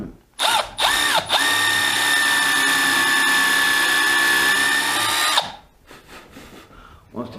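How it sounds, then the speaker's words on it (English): A power drill countersinking screw holes in decking boards for a trough planter: a couple of short bursts, then a sustained steady high whine for several seconds before spinning down, followed by faint clatter. "Back to the trusty countersinking again."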